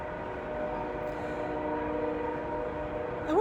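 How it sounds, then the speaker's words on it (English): A train rumbles by at a distance in the morning, a steady low drone with sustained tonal lines, and a horn sounds briefly at the very end. "You can hear the train."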